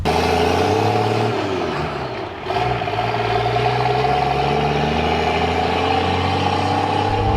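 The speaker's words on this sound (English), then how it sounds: "it's crazy how much louder the turbo spools" A turbocharged Toyota Land Cruiser 60 with its exhaust cutout open, nearly straight-piped, rumbles loudly, dips briefly, then revs back up into a sustained raspy drone with turbo spool, close and alone.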